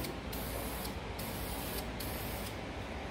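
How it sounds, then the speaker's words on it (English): A steady, continuous hiss of a spray gun applying wrinkle paint, loud and close, with slight pulses as the spray passes back and forth. "So we're gonna spray around it 4 times by the time we're done."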